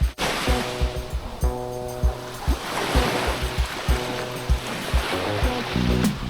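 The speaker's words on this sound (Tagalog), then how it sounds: "Halos wala kang marinig kundi alon lang ng dagat." Steady wash of surf with waves breaking and rolling in, a continuous broadband rush with periodic low thumps, no voices.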